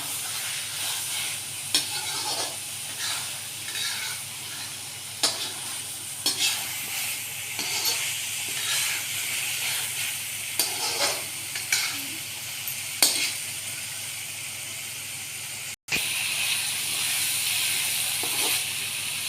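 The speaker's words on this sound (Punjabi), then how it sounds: "ਇਸ ਨੂੰ ਆਪਾਂ ਕੰਟੀਨਿਊ ਹਿਲਾਈ ਜਾਵਾਂਗੇ" Spiced potatoes for dum aloo are stirred and fried in a pan, with a steady sizzle running throughout and repeated scraping strokes of the spoon at an uneven rhythm, close and moderately loud, with no talking.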